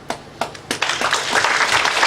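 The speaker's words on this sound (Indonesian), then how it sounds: "Bayarnya cuma tepuk tangan." A small audience gives a brief round of applause for a speaker at a sales talk, starting as scattered separate claps and building into a denser patter of clapping.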